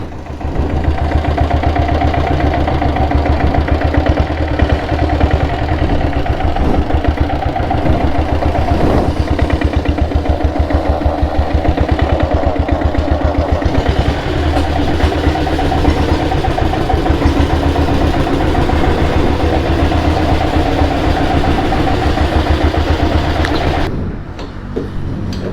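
A vehicle engine idles in neutral with a steady, loud, continuous rumble and faint vibration throughout, with a gearbox noise suspected, before cutting off abruptly near the end.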